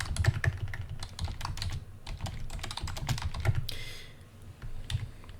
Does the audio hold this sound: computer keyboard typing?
yes